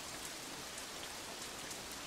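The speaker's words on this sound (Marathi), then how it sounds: "तर त्या दिवशीचा पाऊस." Steady rain falling on a surface, a dense, even hiss of drops throughout, heard close and alone, serving as a sound effect in a spoken Marathi story about a rainy wedding day.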